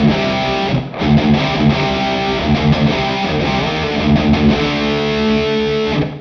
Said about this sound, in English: let's switch to Hall A, which is a nice club sounding reverb.